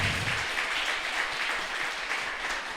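Church congregation applauding during a sermon, a steady wash of many hands clapping at moderate distance, sustained and even without a break.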